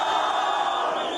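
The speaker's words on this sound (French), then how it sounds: "Marseillaise improvisée" A large crowd on the Grand Place in Lille sings an improvised Marseillaise at a night celebration, a brief burst of massed voices heard from within the throng.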